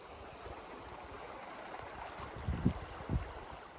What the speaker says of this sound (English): The Little Kern River at Burnt Corral Crossing